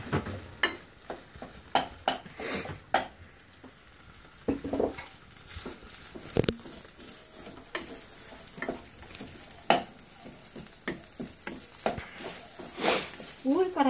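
Rice being stir-fried in melted butter in a pot while making omurice, with repeated scraping and stirring clatters and a soft sizzle in a home kitchen, and someone talking quietly at moments.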